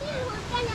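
Loud, steady rush of a mountain stream beside a trail on Bukhansan's Jindallae ridge, a continuous broadband wash with a faint voice under it.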